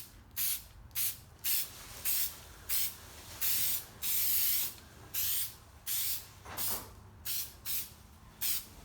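Plasti Dip coating sprays onto a Camaro spoiler in about a dozen short, sharp aerosol bursts separated by brief pauses, close and hissing, with one longer pass midway.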